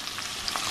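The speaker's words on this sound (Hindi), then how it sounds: "अभी हम डाल देंगे अनियन, मैंने कर लिया लहसुन को, थोड़ा सा इनको भूनते हैं" Onions and garlic fry in a pan, a short burst of close, soft sizzling with a light scrape of stirring.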